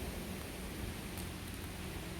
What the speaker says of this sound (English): It's raining, you all.